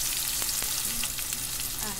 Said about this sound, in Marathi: बारीक चिरलेला कांदा आपण परतून घेऊया